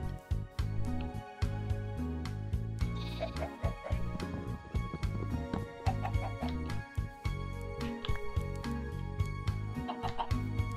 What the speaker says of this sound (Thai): หาไก่อีกตัวนึงก่อนนะอยู่นี่ไง